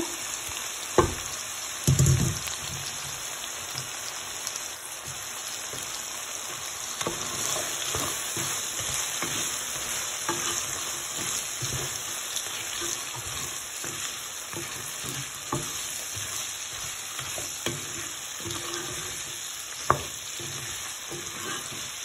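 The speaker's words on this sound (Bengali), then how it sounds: "পেঁয়াজের লগে ভাজা হয়ে দিব।" Chickpeas and potatoes fry with onion in a pan, a constant sizzle with repeated stirring scrapes and a few sharper knocks, close and with no speech.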